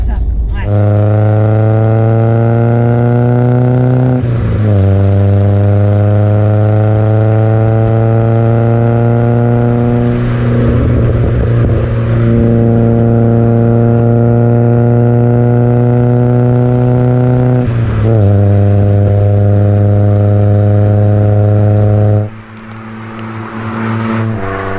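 A carbureted 75-horsepower BMW E21 engine revs hard and loud, the pitch climbing and holding in long sustained pulls with short drops between them, close up, with voices talking over parts of it.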